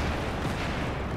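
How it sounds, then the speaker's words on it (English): Explosions and gunfire in the video game Battlefield 4 make a dense, loud, continuous roar of blasts and shots at close range, with no clear gaps. "Just all the explosions happening in my face."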